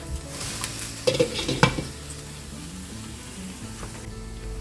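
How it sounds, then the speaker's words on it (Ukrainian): Vegetables for red borscht frying in a pan until golden, a close steady sizzle broken by a cluster of loud stirring scrapes and clinks early on, then settling back to quiet crackling, no voices. "піджарюю її до моменту, коли вона стане рум'яненькою"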